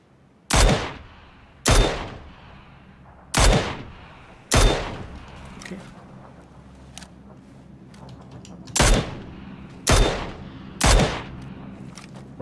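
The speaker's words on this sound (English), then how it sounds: "since you started shooting, you provoked them" Gunfire in a battle royale video game: sharp, loud shots in separated bursts, four spaced early on, then a quieter gap with faint distant pops, then three more close blasts, each ringing out with a short echoing tail.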